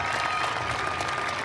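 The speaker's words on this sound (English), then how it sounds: "Come on, cheer your parents!" A graduation commencement audience cheers and applauds for parents, a dense, steady wash of clapping and crowd noise that fills the whole moment at moderate loudness.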